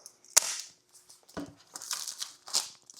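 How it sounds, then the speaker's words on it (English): Sharp pops and crinkly tearing of plastic packaging from a DJI Mic Mini, ripped open with a USB cable, in short bursts, close by and fairly loud against near silence. "get this plastic ripped."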